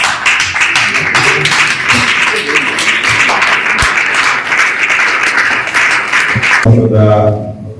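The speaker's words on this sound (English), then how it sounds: "give him a huge round of applause" Loud, sustained applause from a large crowd of delegates at an African Union event, steady clapping for several seconds that cuts off abruptly near the end.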